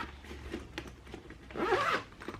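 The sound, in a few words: zipper closing on a food delivery backpack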